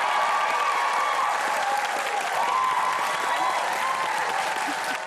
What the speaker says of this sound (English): Please applaud her presence.